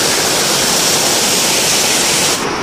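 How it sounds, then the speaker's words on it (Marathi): A forest stream in rural Konkan rushing strongly, a loud, steady broadband roar of flowing water filling the whole stretch without pause, with no voices over it. "ही बघा जंगलातली व्हाळी बघा कशी मस्त एकदम पाणी भारी वाहतय"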